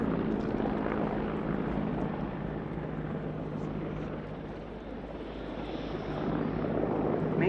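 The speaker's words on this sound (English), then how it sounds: "this helicopter for the modern Czech Air Force" A Czech Air Force Mil Mi-24 Hind helicopter drones overhead at an air show with a steady rotor thrum and engine whine, holding at moderate distance and swelling slightly toward the end.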